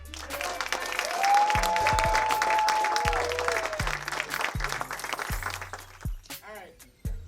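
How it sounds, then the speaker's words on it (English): An audience applauds an award recipient at an SAE Institute mentorship award ceremony, a crowd clapping steadily for several seconds with tonal music and low rhythmic beats playing underneath, fading toward the end. "please give a round of applause and receive our first recipient of the Mentorship Award, Patrice Coakley"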